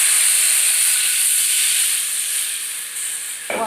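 Water is poured into a pot of cooked tomatoes and peppers, setting off a loud, continuous hiss of steam that fades slightly near the end, followed by a brief bubbling splash.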